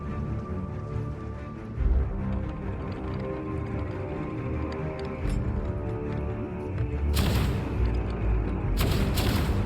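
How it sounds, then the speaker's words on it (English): Ship cannons boom in a Sea of Thieves naval battle, a few heavy blasts bursting over a constant loud roar of waves and game ambience. "These new cannons are great."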